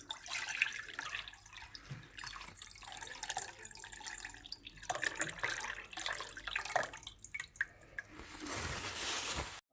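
Water dripping and trickling through a paper filter, made while preparing a Bach flower remedy, giving soft irregular drips and splashes that swell into a steadier pour near the end, close and quiet with no speech.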